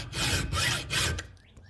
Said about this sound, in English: you're just gonna get a file, go to the back maybe ½ inch or so, and you're just gonna start filing straight back